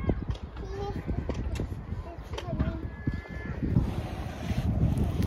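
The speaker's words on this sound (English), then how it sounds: "It's always windy in Lossie, but it's nice warm wind today." Warm, steady wind blowing outdoors in Lossiemouth, buffeting the microphone with a continuous low rumble throughout, while faint voices and movement sit in the background.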